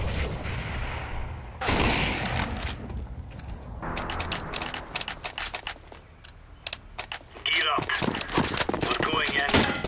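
Gunshots in Counter-Strike: Global Offensive, scattered sharp shots and a rapid burst near the end, mixed with game clatter and someone talking over them.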